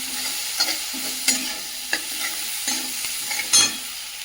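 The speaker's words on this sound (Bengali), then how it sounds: "টমেটোটা ভাজা ভাজা হয়ে গেছে" Chopped tomatoes fry in a hot pan, a steady soft sizzle broken by the scrape and clack of a spoon stirring every half second or so, close by with no voices.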